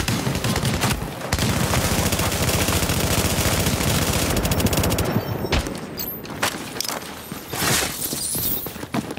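Dense automatic gunfire and bursts of shooting pound a fortification in a battlefield video game, loud and sustained at first, then breaking into scattered sharp shots and impacts.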